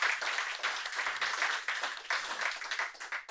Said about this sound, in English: big round of applause to you all that contributed and spoke here at the event